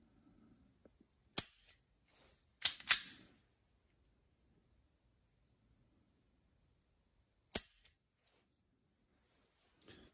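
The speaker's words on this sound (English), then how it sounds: "Let's try the M&P Shield to the dry run." A Smith & Wesson M&P Shield pistol is dry-fired, giving about four sharp, isolated trigger and striker clicks, spaced seconds apart in a quiet room.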